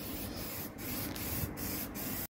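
Black spray paint hisses from an aerosol can onto rusty trailer parts in short, steady bursts with brief gaps between them, close up and fairly quiet, with no voices.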